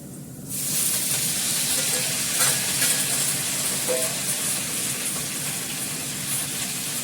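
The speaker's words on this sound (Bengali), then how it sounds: "এর মধ্যে আমি ফোড়নে দেবো একটু কালো জিরে, আর দেবো পালং শাকটা" Nigella seeds and spinach hit hot oil in a tempering pan, setting off a loud, close, continuous hiss and sizzle that holds steady for several seconds with faint crackles.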